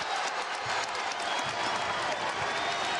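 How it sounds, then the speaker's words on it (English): A college men's basketball crowd at an Iona versus Siena game roars and applauds in a dense, steady wash of clapping and cheering that fills the whole stretch without a break. "This crowd in a frenzy here."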